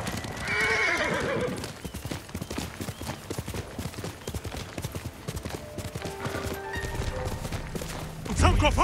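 Horse hooves clip-clop in a steady rhythm with a loud neigh and whinny from a mount in the Ghost of Tsushima video game, set against game music, with a person talking over it.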